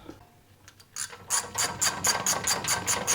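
A ratchet clicks rapidly and evenly as bolts are run into a front brake caliper on a Chevy C3500 dually pickup, close and loud after a few light metallic taps at the start.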